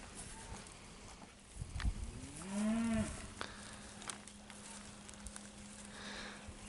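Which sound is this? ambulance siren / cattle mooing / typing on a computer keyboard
cattle mooing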